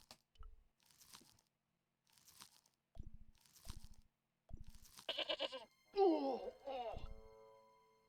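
A cartoonish goat bleats and crunches during an attack in the Broken Sword video game, with sparse impact thuds and short bursts spaced apart before a louder bleat and clatter near the end.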